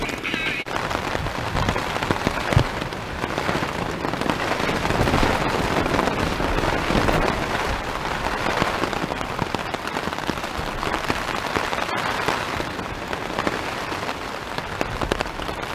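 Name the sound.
pouring rain on a tent while wild camping on Dartmoor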